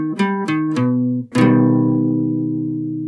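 Piano notes picked out one after another, then a full augmented chord struck and left ringing, bright and close with a long sustained decay, no speech.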